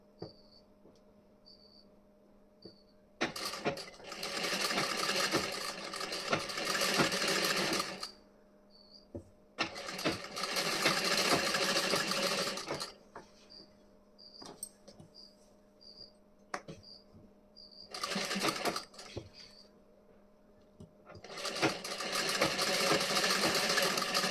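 A sewing machine stitches the front piece of a blouse in several bursts of steady, rapid whirring, each a few seconds long, separated by short pauses filled with faint ticking.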